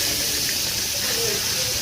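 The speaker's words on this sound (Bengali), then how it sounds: "তেলটা গরম হয়ে গেলো, এবার আগে থেকে কাটানো ফুলকপিগুলো দিয়ে দেবো।" Cut cauliflower fries in hot oil with a steady, dense hiss and sizzle, close and continuous, while a voice talks faintly over it.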